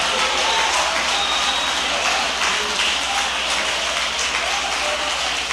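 A church congregation applauding, a dense, even wash of clapping that carries on steadily with a faint voice underneath.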